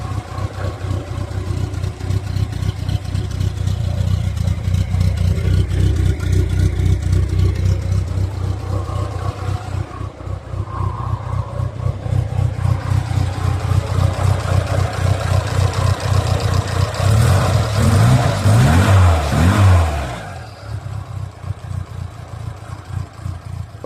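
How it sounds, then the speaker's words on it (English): A car engine with a suspected cylinder head problem runs before a compression test, idling with a steady uneven throb, rising briefly in revs before settling back, close and loud with no talk. "now I'm gonna let you to listen to the car how it's running now"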